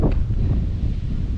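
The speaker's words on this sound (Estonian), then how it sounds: "Nüüd meil siin tuul tõusis, nagu oleks keset merd." Strong wind gusts at a campsite buffet the microphone, a loud continuous low roar with rustling, heard throughout with no talking.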